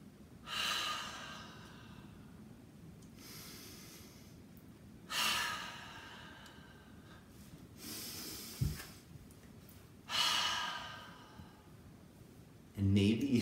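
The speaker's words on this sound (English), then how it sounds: "So let's breathe together." Slow, deep breaths during a guided mindfulness exercise for parents: several long, airy inhale-exhale swells, each a few seconds apart, close and soft over a quiet background hum.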